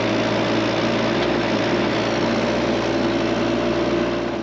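A Case 3-ton mini excavator's diesel engine idles steadily and loudly up close, a constant low rumble with a droning hum and no talking.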